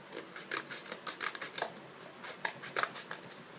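Scissors snipping through card for a homemade Easter card, a run of short, close, crisp cuts coming in uneven bursts with brief pauses between them, and no talking.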